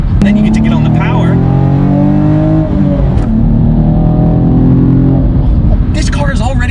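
A 2016 Chevy Camaro 2LT V6 with a manual gearbox pulls hard under power, its engine note climbing steadily and loud through the gears, with a brief dip around a shift and a voice speaking over the engine.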